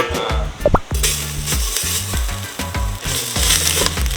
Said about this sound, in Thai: ผัดพริกแกง